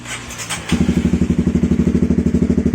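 A Honda CB150R motorcycle engine starts up close by and settles into a loud, steady idle with a fast, even rhythmic thrum that continues to the end.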